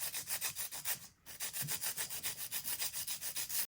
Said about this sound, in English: then I go in with a hand file just to sharpen up those sides and to taper that shape